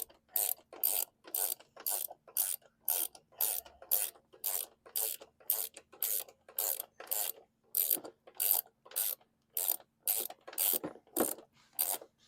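Steady run of rapid ratchet clicks as bolts are snugged down on a 2010 John Deere JS46 lawn mower, close and fairly loud, coming in even bursts about every half second with no talking.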